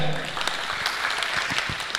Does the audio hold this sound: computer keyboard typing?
no